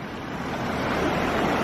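Bear Creek near Boulder, Colorado, swollen high with spring snowmelt, gives a steady, close, broadband rushing roar with no voices.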